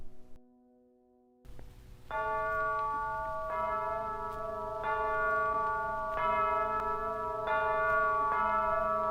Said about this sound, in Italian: L'orologio del campanile scandiva i rintocchi delle ore.